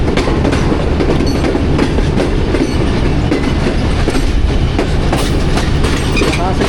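A Wazirabad Sialkot Express passenger train runs on the rails, its loud, steady rumble carrying a continuous clickety-clack of wheels over the track joints, close by and unbroken throughout, with no talking.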